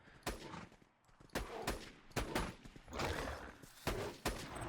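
Rapid volleys of gunfire in Borderlands 2, several sharp bursts spaced irregularly across a few seconds, loud and close with no talking over them.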